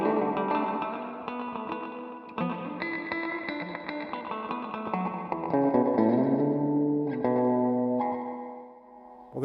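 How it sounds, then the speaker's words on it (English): Electric guitar chords through a MoSky spring reverb pedal, mix set full, ring out drenched in splashy reverb, notes smearing into a washy tail as the effect swells, with no voices. "Now you can hear the reverb more."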